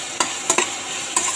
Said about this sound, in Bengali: এবার দিয়ে হলুদটাকে আমি একটু ফ্রাই করে নিচ্ছি, হালকা করে।